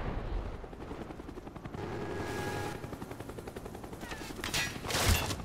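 In Call of Duty Black Ops, a helicopter killstreak thrums in the background while rapid bursts of automatic gunfire crackle intermittently, with a louder sharp burst near the end; no talking.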